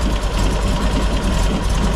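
A cold-started engine idles slightly lumpy, a steady low rumble with a fine uneven pulse, close and continuous with no talk.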